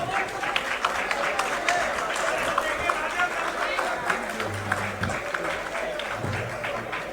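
A crowd applauds steadily, many hands clapping in a dense wash, with a voice speaking briefly over it near the end.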